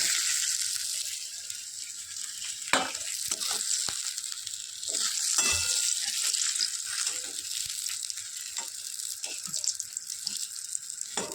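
Fish frying in a pan gives a steady, bright sizzling hiss throughout, with a few sharper crackles and spatters as pieces are handled.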